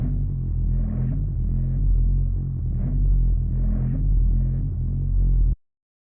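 Growly vocal-style bass from layered oscillators in the Serum 2 synth, shaped by a hand-drawn LFO. It plays alone as a dense, loud low drone that pulses and swells in a loose rhythm for about five seconds, then cuts off abruptly.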